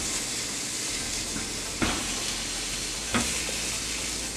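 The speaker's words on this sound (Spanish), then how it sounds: "Pondremos a asar nuestros tomates." Tomatoes roast on a hot pan with a constant loud sizzling hiss, broken by two sharp taps or turns of the food, and no voices.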